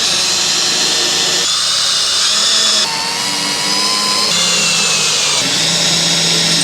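Power drill driving the very last screw into a longship camper conversion build, loud and close with a steady high whine that shifts pitch in several bursts across the stretch, no talk over it.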